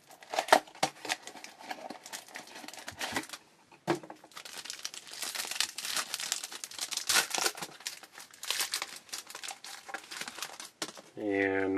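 A foil wrapper on a 2011 Bowman Sterling football trading card pack is crinkled and torn open up close, giving crackly rustling over several seconds while people talk.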